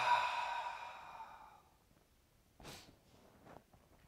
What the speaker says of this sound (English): Open your mouth, breathe out.